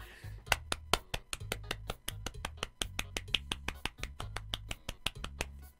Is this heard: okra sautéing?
no